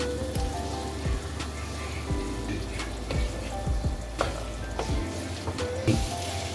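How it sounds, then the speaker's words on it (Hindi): Diced potatoes and capsicum sizzle in a hot pan with coriander powder mixed in, giving a steady close crackle full of small pops and occasional sharper spits, with no talking. "इसको 2 मिनट तक अच्छे तरीके से भून लें"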